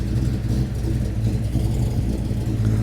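A Ford Mustang SN95 engine running with an exhaust leak, a loud steady low rumble with a throbbing idle pulse, close by and with no talking.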